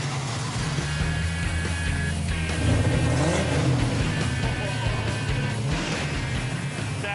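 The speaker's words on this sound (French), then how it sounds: "On adore les voitures et on a un V8 qui rugit." A Ford Thunderbird V8 runs loud and close, holding a steady throaty rumble that swells as it revs before easing back, with no voices over it.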